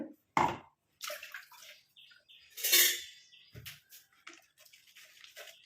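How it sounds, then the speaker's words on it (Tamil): Herbal juice is poured and strained through a filter, producing intermittent close splashing and trickling liquid sounds in short bursts separated by quiet gaps, with no talking. "ஜூஸை மட்டும் இந்த மாதிரி வடிகட்டிக்கலாம்"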